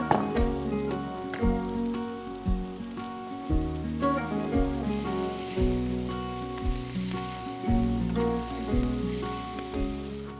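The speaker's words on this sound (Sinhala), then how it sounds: "කපාගත්ත සුදු ලූණු ටිකත් අපි එකතු කරගන්න." Chopped garlic hits hot oil in a pan and sizzles steadily throughout, a close, even frying hiss carried under background music.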